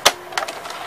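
A Mitsubishi HS-U576 VCR ejects a tape with a sharp mechanical click, then a quick cluster of softer clunks and rattles, all close and brief.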